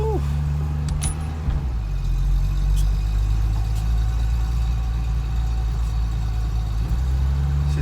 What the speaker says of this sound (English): She's revving a bit high.